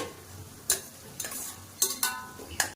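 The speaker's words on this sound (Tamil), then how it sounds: "இப்போ இது நல்லா இந்த வெங்காயத்தை வந்து நான் வந்து வதக்கிக்கிறேன் நல்லா" Chopped onion stirred in a hot pan, with a handful of sharp scraping strokes from the spoon against the metal over a soft, steady sizzle, close up and with no talk.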